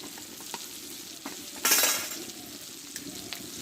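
Spice masala fries in released oil with a steady sizzle and light spatula stirs, then a brief loud burst of hissing in the middle before easing back to a soft crackle, with no talk.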